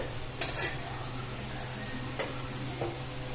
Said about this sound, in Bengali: আমি ছোলাটা খুব ভালো করে এর মধ্যে দিয়ে ভেজে নেব।